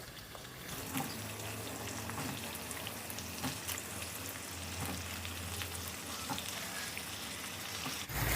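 Long-cut eggplant pieces and green peas frying in a pan for a vankaya batani curry, a soft steady crackling sizzle with a few sharper pops, fairly quiet and without talk.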